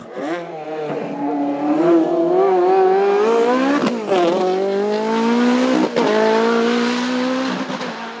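A Ferrari 430 GTO race car at the Vuillafans-Echevannes 2023 hill climb roars close by, its engine climbing through the gears with brief dips at each shift and a sustained, loud, harmonically rich howl throughout.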